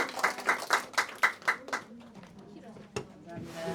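At the end of a training session for new insurance agents, a small group claps together in about six evenly spaced, strong beats. Scattered lighter claps and a voice follow as the room settles.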